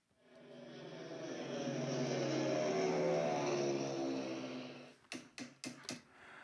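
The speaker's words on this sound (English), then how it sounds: "we needed the sound of flying planes" An engine roar swells up and fades away like an aircraft passing overhead, followed by a few sharp knocks.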